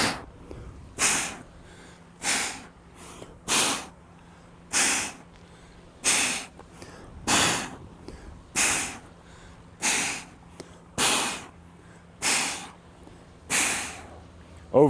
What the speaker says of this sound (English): Right now, I'm forcefully exhaling so you can hear the exhale.